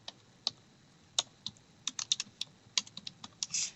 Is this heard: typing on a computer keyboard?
yes